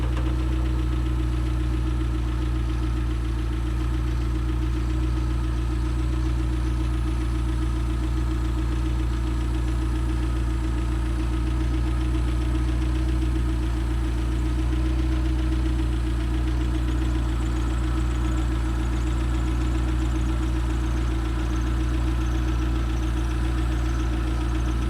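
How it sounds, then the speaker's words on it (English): Citroen CX idling while its hydropneumatic suspension raises the car, a steady low engine hum with a faint mechanical whine, constant and close, no voices. "I'm going to show you what it looks like when the car goes from its lowest position to its highest position"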